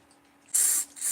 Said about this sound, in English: because with this adhesive spray, something is small, it'll blow it away